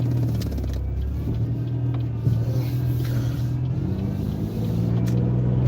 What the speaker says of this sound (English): this intersection is very dangerous with a lot of cars